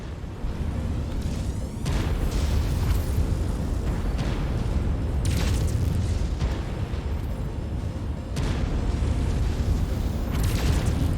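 Mech destroyed in a MechWarrior 5: Mercenaries battle, a sustained roar of explosions and heavy weapon bursts rumbling loudly throughout, with several sharp booming blasts standing out.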